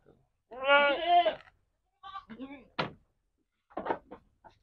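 A two-month-old black goat kid, a Rambon crossbreed, gives one long wavering bleat up close, then several shorter, sharper calls separated by brief silences.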